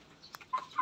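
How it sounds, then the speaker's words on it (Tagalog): A chicken being carried gives a few faint, soft clucks, short separate calls close by in an otherwise quiet setting. "Bit-bit na nga yung manok"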